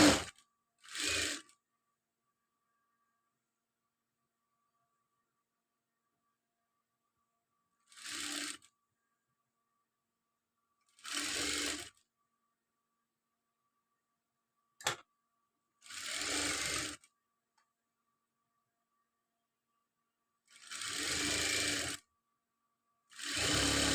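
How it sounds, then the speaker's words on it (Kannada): A sewing machine stitching lining cloth for a chudidar runs in six or seven short bursts of a few seconds each, separated by pauses of near silence, close and fairly loud. "ಈ ಥರ ನೋಡಿ ಸ್ಟಿಚ್ ಮಾಡ್ಕೊಂಡು ಬರಬೇಕು."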